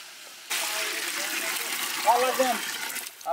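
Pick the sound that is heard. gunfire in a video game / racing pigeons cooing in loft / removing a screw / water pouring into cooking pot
water pouring into cooking pot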